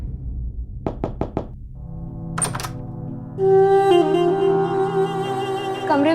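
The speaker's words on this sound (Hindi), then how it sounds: "जय, जय प्लीज दरवाजा खोलो।" Four quick, firm knocks on a closed door in a Hindi TV crime drama, loud and close, followed by other sounds and a swelling tonal background.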